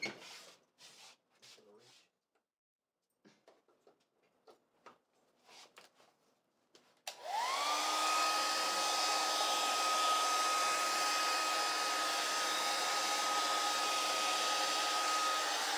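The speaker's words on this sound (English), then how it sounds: "What happened to the hair dryer?" Brief quiet speech and a few soft knocks, then a hair dryer switches on and blows steadily and loudly until the end.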